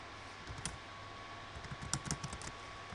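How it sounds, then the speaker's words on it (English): Keys tapping on a computer keyboard in a short, uneven run of light clicks, clustered near the start and again toward the end, quiet and close over a faint steady hum, with no talking. "let me just type that in"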